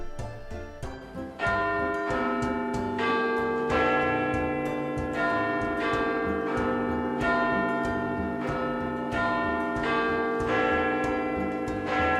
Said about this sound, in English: These 4 smaller bells are called quarter bells. They play part of a melody every 15 minutes and the full melody on the hour.